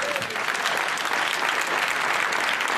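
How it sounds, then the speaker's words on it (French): A church congregation claps steadily and fairly loudly, a sustained wash of many hands with a faint murmur of crowd underneath. "Applaudissons Jésus."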